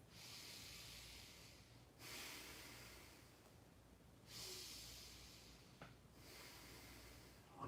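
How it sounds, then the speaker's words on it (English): Slow, deep breaths during a yoga flow, each long inhale and exhale soft and airy, repeating in an even rhythm at low volume. "3 rounds of breath."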